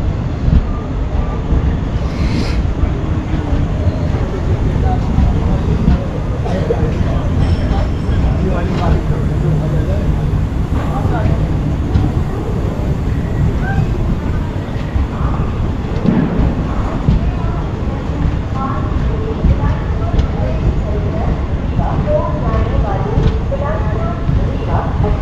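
The Bilaspur-Rewa Express runs along the track with a steady, loud rumble and rattle heard from inside, continuous throughout, with faint voices and clatter mixed under the noise.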